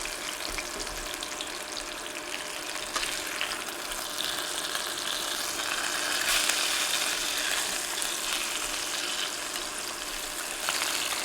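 Beef short ribs brown in a hot pan with a steady, close, crackling sizzle that grows slightly louder midway, alone with no talking.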